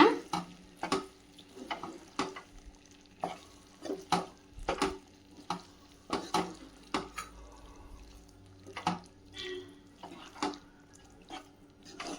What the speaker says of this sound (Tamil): நல்லா எல்லா முட்டை மசாலாவில் எல்லாம் படுற மாதிரி கலந்து விட்டுருங்க.